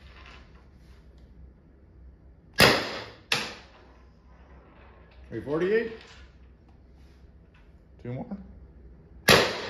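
A Byrna LE less-lethal launcher fires three sharp cracks, with a fourth near the end, spaced a second or more apart; a man calls out numbers between shots.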